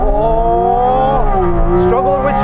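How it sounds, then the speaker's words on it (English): A Porsche Cayman GT4 RS launching hard under launch control, its engine note loud and climbing steadily in pitch, dipping briefly at a gear change midway, then pulling upward again. "I'm going to launch it."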